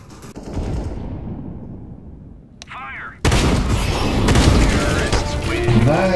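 Rapid bursts of gunfire from Counter-Strike: Global Offensive rounds, loud and close, crackling over game noise after a brief lull, with a voice speaking over the action.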